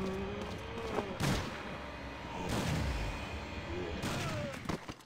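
Gunfire in a horror puzzle video game, three sharp separate shots spaced about a second apart, reverberant and fairly loud over a quiet ambient background.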